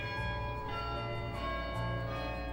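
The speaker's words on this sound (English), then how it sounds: "we heard a sound, church bells." Church bells ring out in a steady, sustained wash of tones with rich overtones, moderately loud and continuous, with no talking over them.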